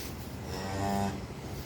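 A cow that has just given birth to a bull calf lets out one drawn-out moo calling for her newborn, close and clear with no one talking.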